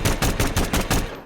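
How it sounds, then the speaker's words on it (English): Rapid automatic fire from the Concept 5 pistol in Hitman 2: about six sharp, punchy shots in quick bursts over barely a second, loud and close with no talk. "The Concept 5, an automatic pistol unlockable in Miami, has a special gunshot noise"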